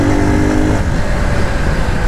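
Nova SHI 175 EFI motorcycle engine while riding, a full-bodied steady drone that stays loud and close throughout, with a slight shift in tone partway as the bike pulls.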